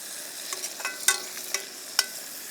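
Chopped tomato with onion, ginger and garlic frying in a pan for a catla fish and ash gourd curry, with a steady soft sizzle and a few sharp scraping stir strokes, close and alone, no talk.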